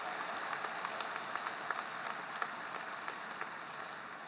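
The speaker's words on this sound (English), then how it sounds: "let's give Brandon a round of applause for perfect attendance" Crowd at a 2023 high school graduation applauding a graduate's perfect attendance, steady, moderately distant clapping from many hands with scattered sharper claps standing out.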